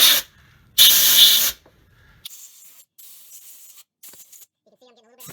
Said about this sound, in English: I'm gonna use a little air and blow out all these mounting holes